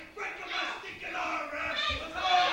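A wrestling crowd at an opening match roaring and chanting in loud waves, a dense mass of shouting voices that keeps rising and falling throughout.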